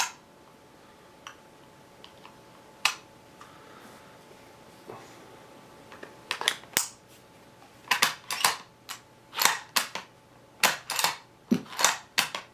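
A Ruger American rifle cycles rounds from its magazine: a series of sharp metallic clicks and clacks in irregular clusters, close and distinct, growing busier toward the end over a quiet background.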